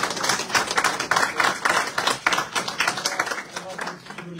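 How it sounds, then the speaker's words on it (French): A conference audience in Paris applauds, a dense crowd clapping that swells and keeps going steadily at close range, with no speech over it. "Je crois qu'on peut l'applaudir quand même."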